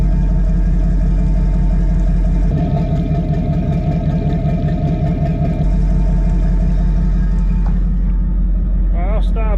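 Detroit Diesel marine engines idle aboard a boat during routine maintenance, a loud, steady low rumble with a deep throbbing pulse that thickens for a few seconds, then settles back to an even drone.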